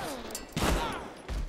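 Revolver shots ring out in a video game firefight, a couple of loud, close cracks within a second and a half, with no talk over them.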